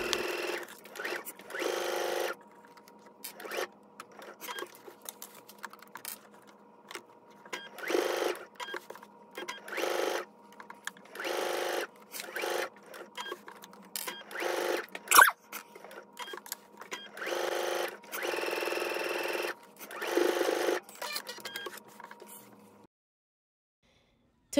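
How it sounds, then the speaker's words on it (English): A sewing machine stitches a pocket onto a pair of shorts, close along the side and lower edges, running in repeated short bursts with brief pauses between them, close and fairly loud. "I'm going to go ahead and take this to my sewing machine"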